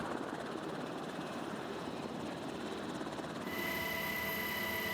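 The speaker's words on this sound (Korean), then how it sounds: "항공구조사들을 태운 헬기가 해당 위치로 다가갑니다" An air force rescue helicopter approaches a distress site over the sea, its steady rotor and engine roar filling the air at a moderate distance, broadband and continuous with no voices.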